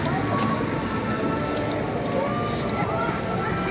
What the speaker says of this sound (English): Yeah, more rain.